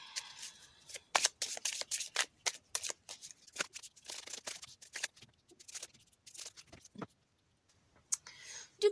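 Tarot or oracle cards shuffled by hand for a weekly reading, a run of quick papery riffles and flicks close to the mic, with a short pause near the end and no talking.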